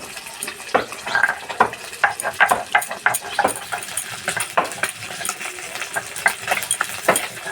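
Bata fish fries in hot oil in a pan for a Bengali recipe, giving a continuous sizzle broken by irregular sharp scrapes and clinks of a spatula stirring and turning the pieces.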